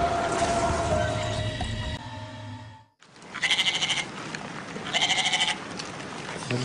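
A man imitates a goat's bleat with his voice in two wavering, buzzy bursts after a stretch of chatter and brief silence, close and fairly loud.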